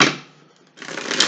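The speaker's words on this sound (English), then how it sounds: "Let's shuffle these 5 times." Quick papery riffle of tarot cards being shuffled, a short burst, a brief pause, then another rustling shuffle, close and fairly loud.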